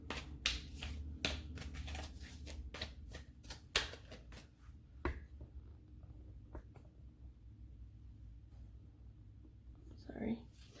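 Tarot cards being shuffled in quick bursts of crisp riffling and snapping during the first five seconds, followed by quieter handling and a faint rustle near the end.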